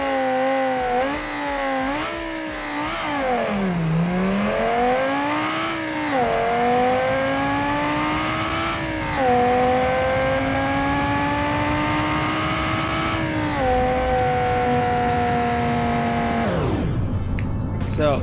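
A BeamNG.drive drag-race car revs hard and accelerates through several gear changes, its engine note climbing and dropping in steady loud sweeps before cutting off abruptly near the end.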